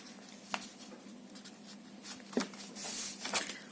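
A pen marks paper along a ruler before the paper is cut for an envelope ephemera holder, making quiet scratchy strokes and a few light taps spaced irregularly, close by and faint.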